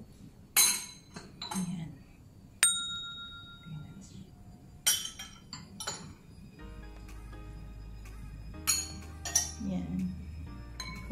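Drinking glasses clink against each other and the dishwasher rack as they are loaded one by one, several sharp ringing chinks spread across the clip, with someone talking softly in between.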